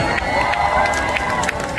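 Festival crowd cheering and clapping for a singer, a dense roar of voices with scattered shouts and handclaps rising over it, loud and continuous.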